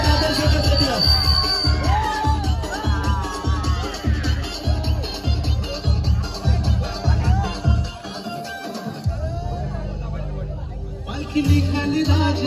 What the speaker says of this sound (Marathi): एकदा जोरदार टाळ्या शंभूराजे दादर संघासाठी